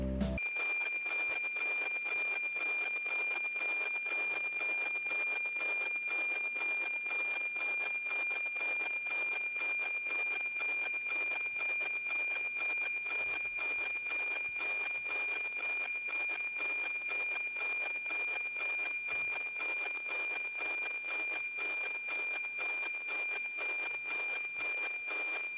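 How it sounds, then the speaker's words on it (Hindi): NOAA weather satellite signal received by software-defined radio in SDR Sharp: a steady, loud high carrier whine with a fast, regular tick-tock pulsing and a hiss underneath, unbroken throughout, with no talking. "आपको यहाँ पर सैटेलाइट का जो साउंड है किस तरह से जब आप उसको रिसीव करते हैं अपने SDR शार्प"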